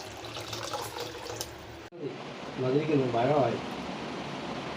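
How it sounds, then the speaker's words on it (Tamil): Water splashes and pours into a cooking pot of Kerala-style jackfruit, a loud gush that cuts off sharply, followed by quieter kitchen noise and a brief voice. "தண்ணி விட்டுக்கலாம்."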